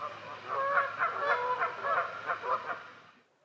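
Canada geese honk repeatedly in a rapid, overlapping chorus, loud and close, then the calls break off abruptly, on a hill walk up Ben Aan in Loch Lomond and the Trossachs.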